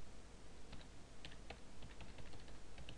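Keys clatter on a computer keyboard in a quiet room, a steady patter of close, crisp taps across a few seconds with no talking.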